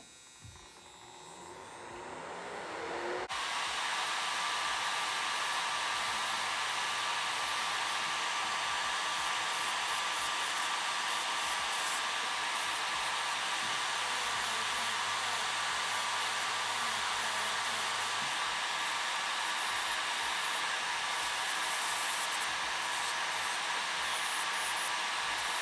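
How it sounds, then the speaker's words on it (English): A nail dust collector switches on after a few seconds and runs steadily, a loud continuous whirring hum with broadband airflow hiss that holds unchanged to the end, with no talking. "I'm just going to turn on my dust collector again"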